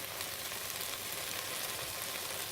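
Lamb meat browning in a home kitchen pan, a steady close sizzle and fry with no talking over it.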